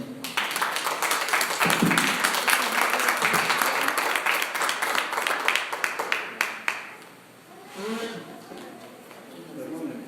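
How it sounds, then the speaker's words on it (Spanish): A church congregation applauds, loud dense clapping from many hands for several seconds before fading out, after which a voice speaks alone. "Denle un aplauso al Señor"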